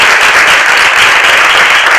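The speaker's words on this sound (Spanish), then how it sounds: "Un aplauso para Melina." Dense, loud applause from an audience at a talk, continuous clapping filling a short moment without a break.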